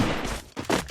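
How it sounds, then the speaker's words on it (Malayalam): Gunfire in the Free Fire video game: a brief burst of rapid shots, close and loud, in two quick clusters within a second. "വെടി ഇപ്പൊ തന്നെ വന്നു."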